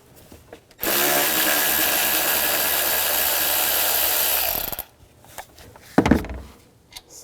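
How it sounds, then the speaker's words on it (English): Power tool spinning an 8mm socket to loosen the purge solenoid valve bolt on a 2002-2006 Chevy Avalanche: one loud, steady whirring burst of about four seconds, followed by a few nearby clunks and rattles. "Use an 8mm socket. Loosen this bolt up"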